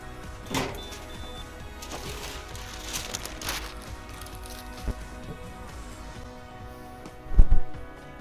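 A DTG G4 direct-to-garment printer runs a custom T-shirt through, with faint motorized whirring and sliding passes at a steady low level and a sharper mechanical clunk near the end.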